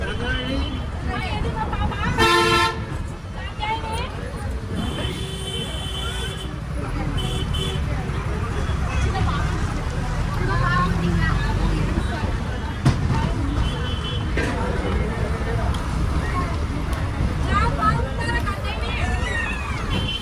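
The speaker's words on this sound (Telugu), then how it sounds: "బస్సు మాత్రం గోల ఉందన్నమాట అంతా." Chatter and commotion aboard a crowded APSRTC bus full of passengers and small children, a steady babble of many voices over engine rumble with occasional horn toots from traffic outside.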